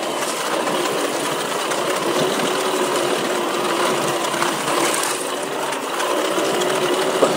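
An adaptive mountain bike motor whines steadily on a West Sedona trail ride, a continuous buzzing drone close to the rider that holds roughly level throughout.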